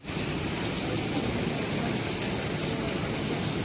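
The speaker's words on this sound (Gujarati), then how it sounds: "જોઈ લ્યો વરસાદ ચાલુ થઈ ગયો છે" Steady rain pours down, producing an unbroken, dense hiss of falling drops at an even level throughout, with no voices.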